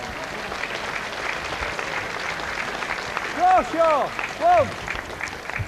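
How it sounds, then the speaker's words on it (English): Crowd applause at an outdoor bowls match, steady clapping from spectators throughout, with a commentator speaking over it near the end. "A lot of applause for Robert Crawshaw"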